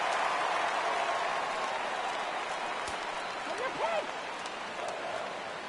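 Baseball crowd at a Cardinals at Brewers game in September 2014, a steady roar of cheering and noise filling the stadium as fans rise before a full-count pitch, with a brief rise near the end.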